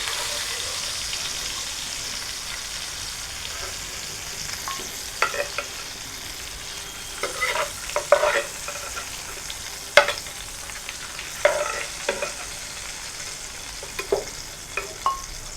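Steady sizzling of chital fish frying in a pan, with a run of sharp scraping and stirring clicks growing busier toward the end.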